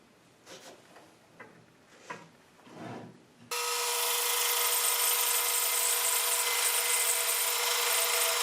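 A thin veneer slice being sawn from a cherry wood block clamped to a fence with double-sided tape. A few soft handling knocks give way to a loud, steady, continuous machine cutting whine.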